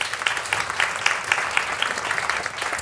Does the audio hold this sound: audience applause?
yes